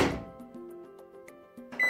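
A microwave oven heats items on a plate with a steady electrical hum and faint tonal whine, broken by a few small clicks, growing louder near the end.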